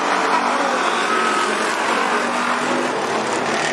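Race cars roar around the oval at Cottage Grove Speedway, a dense, continuous wash of loud engine noise with no break, as several cars run together through the turns.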